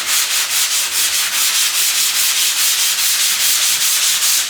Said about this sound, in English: you don't want to keep sanding because you're just taking extra material off